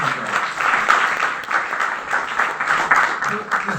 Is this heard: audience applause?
yes